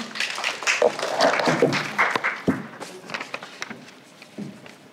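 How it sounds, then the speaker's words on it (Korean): A seminar audience at a Korean employment support briefing applauds to welcome a presenter, a short burst of scattered clapping that swells and then thins out into a few stray claps and shuffling. "큰 박수로 맞이해 주시기 바랍니다"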